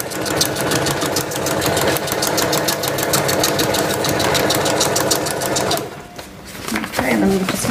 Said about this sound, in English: I'm just using the width of the foot on my sewing machine.